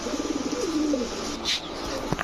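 Pigeons, including a male, coo in a short series of soft rolling notes, close and fairly quiet, followed by a few faint chirps and rustles.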